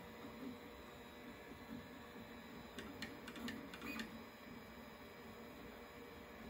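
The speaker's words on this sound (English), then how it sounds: "The fans run when the printer warms up, but the sound level is still quite low." An Artillery Sidewinder X2 3D printer runs quietly with its fans spinning, giving a low steady hum with a few brief mechanical chirps partway through.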